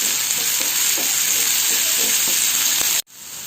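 Finely chopped onions with salt sauté in a hot pan, giving a steady loud sizzle and hiss with soft stirring scrapes, until the sound cuts off sharply near the end.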